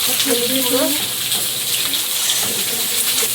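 Water is poured into a cooking pot of dal in a steady, close gush, with a brief voice speaking near the start.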